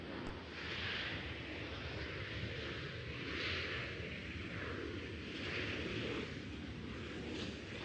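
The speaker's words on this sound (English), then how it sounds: "we've got ABX 880 taxiing out currently. Another 767 heading to LA." Boeing 767 cargo jet operated by ABX taxiing at Cincinnati/Northern Kentucky airport, a steady broad engine roar with slowly pulsing whine, heard from a moderate distance and continuous throughout.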